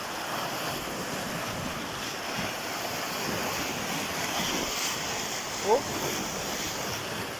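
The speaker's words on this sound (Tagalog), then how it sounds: "Lakas ng alon." Strong waves wash continuously against a rocky shore of Taal Lake, a steady broadband surge mixed with wind buffeting the microphone, with a brief spoken remark near the end.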